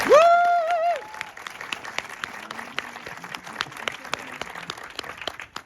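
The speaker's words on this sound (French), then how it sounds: "on les applaudit une nouvelle fois" A studio audience applauding during a Caméra Café anniversary show, steady clapping under a voice, with a brief whistling tone at the start.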